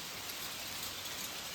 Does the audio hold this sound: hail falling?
yes